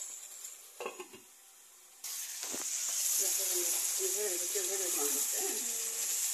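Potatoes fry in a pan with a rising sizzle and hiss after a few stirring knocks at the start, while a voice talks over the latter half.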